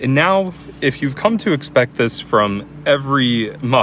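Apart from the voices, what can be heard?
No everyday noise stands out behind the speech.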